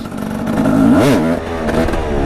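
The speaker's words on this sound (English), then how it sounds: "You clutch in, you give it some revs" A 300cc two-stroke supermoto motorcycle engine revs up sharply and falls back once, a loud rising and dropping buzz over a steady idle.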